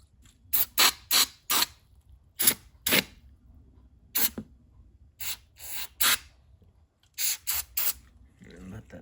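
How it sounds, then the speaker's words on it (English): A series of short, sharp hisses from a spray bottle of cleaner sprayed onto ratchet parts, fired in quick bursts and small clusters with brief pauses between them. "we're gonna spray inside here. And we're gonna spray this."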